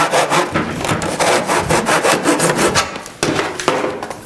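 A hand saw cuts wood for a picture frame top in a miter box, rapid back-and-forth rasping strokes close up, with a short pause near the end.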